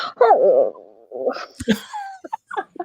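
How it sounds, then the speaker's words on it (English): A dog whimpering and yipping at a staircase indoors: a wavering, high whine followed by a few short, sharp yips and brief whimpers, close and fairly clear against a quiet room. "I hear my dog at the staircase going"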